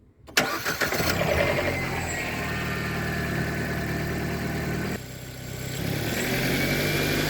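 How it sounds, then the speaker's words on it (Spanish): A car engine cranks and catches, then settles into a steady idle before revving up slightly near the end; loud and close. "Voy a encender el motor"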